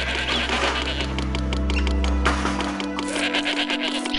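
Sheep bleating in the Master of Olympus city-building game, several overlapping bleats heard up close and fairly loud over a steady low drone, with no talk.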